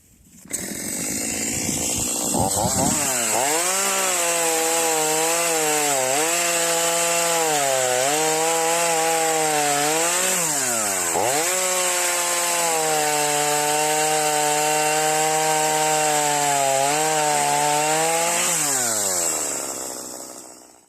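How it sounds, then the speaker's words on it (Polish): A cheap petrol chainsaw costing about 300 zł with a sharp chain cuts through thick wood, its engine screaming loud and close for about eighteen seconds, the pitch sagging and recovering repeatedly under load before it winds down. "łańcuch jest ostry, ładnie wchodzi w drewno, nie za szybko, nie za wolno, w zasadzie bez oporu"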